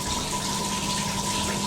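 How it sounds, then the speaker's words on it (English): Water pours steadily out of a cleaning machine into a sink with a continuous rushing, splashing hiss and no talking. "let's have a look what the water looks like coming out"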